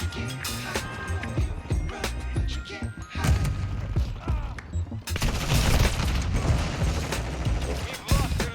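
Call of Duty MWII multiplayer gunfire crackles in dense bursts and rapid automatic volleys with crashes. It grows louder and more sustained in the second half, and faint game voices are mixed in.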